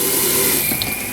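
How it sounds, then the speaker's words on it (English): Sink faucet in a Falcon FL 14 RV running steadily, with the water pump under a bench; a loud, even hiss of flowing water fills the whole stretch with no speech. "when I turn this on, we're going to hear a pump run"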